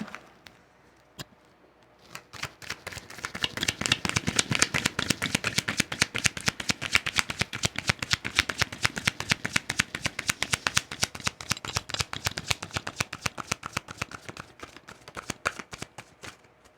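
Tarot cards are shuffled close by in a long run of quick, rhythmic riffling slaps that start after a quiet moment and continue steadily to the end.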